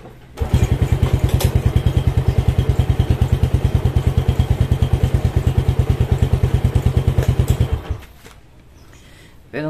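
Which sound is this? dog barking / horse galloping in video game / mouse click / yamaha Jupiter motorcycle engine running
yamaha Jupiter motorcycle engine running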